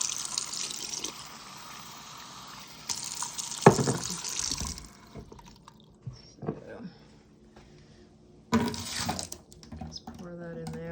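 Water runs from a tap in two bursts, each a few seconds of steady splashing rush, with a fainter stretch of drips, handling clatter and low murmured talk in between.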